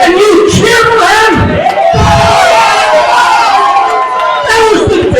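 Loud wrestling crowd at a 3WA Carnage "Slamsgiving" show, roaring, shouting and cheering continuously throughout, with bellowing voices and chants rising and falling in a dense, near wall of noise.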